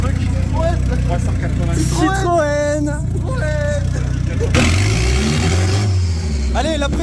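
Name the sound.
Citroën C15 diesel engine revving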